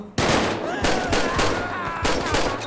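Rapid bursts of gunfire from a GTA 5 zombie mod, loud and close, sustained automatic shots with brief gaps.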